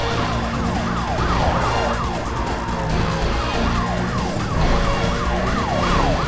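Police car sirens wail continuously in the Need For Speed Most Wanted racing game, several overlapping rising-and-falling tones layered over a steady engine roar and game music, loud throughout.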